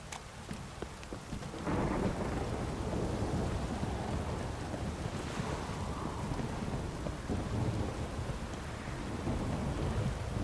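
A heavy thunderstorm downpour in The Witcher 3: Wild Hunt, steady loud rain hissing on surfaces with low thunder rumbling underneath throughout, no voices.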